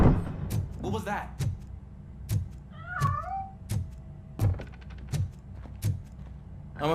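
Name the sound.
cat meowing in RoboCop Rogue City video game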